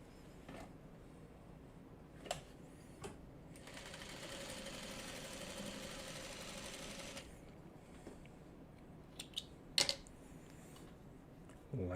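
A sewing machine stitching quilt block pieces, running in one steady burst of a few seconds between quiet handling clicks, faint and close.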